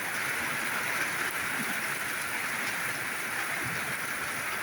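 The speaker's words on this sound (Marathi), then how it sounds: "पाऊस मस्त आहे, अतिउत्तम पाऊस आहे." Steady monsoon rain falling over crop fields on a farm, a dense, unbroken hiss of drops at constant loudness with no voices.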